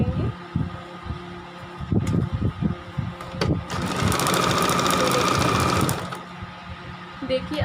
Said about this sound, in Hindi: इस प्रकार से इसे हम कम्प्लीटली स्टिच कर लेंगे